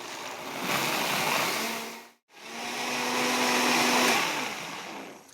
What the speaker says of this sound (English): I'm just going to start the blender here.